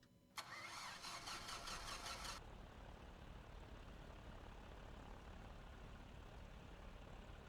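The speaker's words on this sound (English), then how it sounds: "Let's start the engine." Pipistrel Panthera light aircraft engine starting in the X-Plane 11 flight simulator: a sharp starter burst with buzzing cranking for about two seconds, then the engine settling into a steady, loud low idle rumble with no talk.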